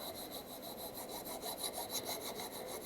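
Steady rhythmic rasping of a file drawn along the edge of a plexiglass drypoint plate to cut a bevel, close and continuous with regular strokes, no talking.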